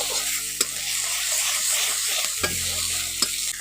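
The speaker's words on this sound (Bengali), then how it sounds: "এখন আদা রসুন বাটাটা পেঁয়াজের সঙ্গে একটু ভালো করে কষে নিচ্ছি" Ginger-garlic paste with green chilli paste and turmeric frying together with onion in a pan, a loud continuous close sizzle broken by a few sharp stirring clanks, with no voices.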